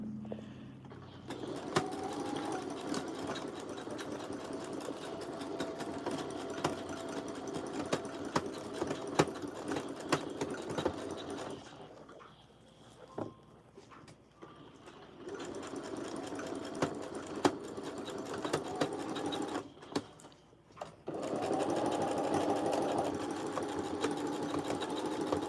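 Sewing machine stitching a half-inch seam on a dress, running in long steady bursts with short pauses between passes, close and clear with no talk over it.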